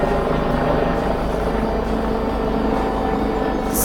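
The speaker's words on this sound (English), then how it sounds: "Echo from the helicopter is tremendous at this point." A helicopter flies low and hovers in the Cwm Eigiau valley, its loud, steady rotor thrum and engine roar echoing off the surrounding slopes without letting up.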